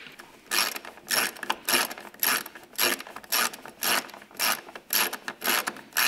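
Socket wrench ratcheting in repeated bursts while a spring-loaded part is removed from a car door during a GSA repaint, close and clear, about ten short clicking runs with brief pauses between them.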